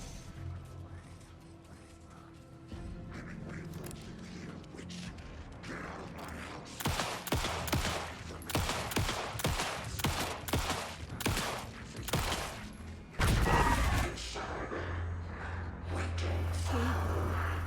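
Gunshots in the video game Alan Wake 2, a rapid run of loud, sharp shots and crashes in the middle of the stretch, with quieter mechanical creaks and a low rumble before and after.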